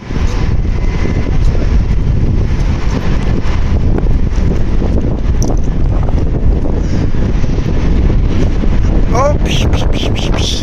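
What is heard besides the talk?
wind blowing in Moscow City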